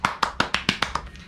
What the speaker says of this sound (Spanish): mis aplausos para Bonnie Lovi